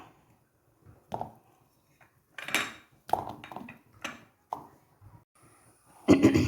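A knife chops peeled, seeded curry lemon, sounding as sparse, irregular close knocks and taps on a cutting surface with quiet gaps between them. A denser cluster of strikes comes at the end.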